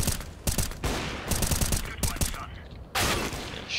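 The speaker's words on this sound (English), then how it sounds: "there's a guy shooting me in the back of the head" Rapid gunfire in a CSGO deathmatch: dense bursts of automatic shots with sharp cracks and brief pauses, loud and close, ending in a heavy final volley.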